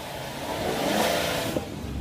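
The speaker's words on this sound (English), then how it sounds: "you mostly hear just the engine noise, not much coming out of the exhaust" A 2014 Chevy Silverado pickup engine runs close by with a steady rumble that swells slightly as it revs, little exhaust sound, with no talking.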